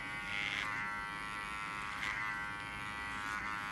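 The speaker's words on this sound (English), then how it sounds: "So I'm just going to go straight down to as short as the clipper will allow me, the clipper comb" An electric hair clipper fitted with a clipper comb buzzes steadily while cutting hair short for a classic pompadour, a close, fairly quiet hum with slight rises as it moves through the hair.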